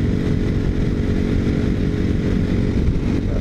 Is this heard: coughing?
no